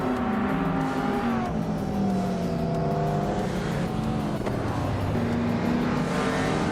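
Race cars roar off the start at Autopolis Oita in a racing video game, a 1987 Buick GX among the retro supercars, engines droning steadily and loud with shifting, rising pitch as several cars accelerate together.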